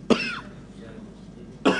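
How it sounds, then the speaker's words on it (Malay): A man reciting the Quran coughs twice, a sharp close cough at the start and another near the end, with a brief hoarse voiced trail after the first and a quiet pause between. "Nak terangkan huruf sampai batuk saya ni."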